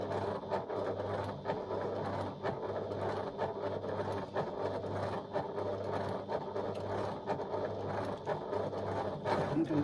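A Classico sewing machine runs a curved seam at an eighth-inch allowance with a close, steady mechanical hum and rhythmic needle clatter, pausing briefly between short bursts, with no voices.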